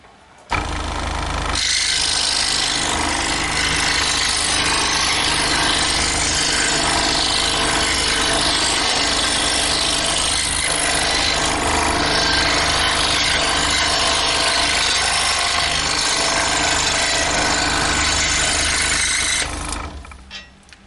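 A scroll saw cuts construction grade plywood about 3/16 inch thick, giving a steady, loud, close buzzing rasp of the blade that starts up, runs continuously for about eighteen seconds and then stops, with no talking.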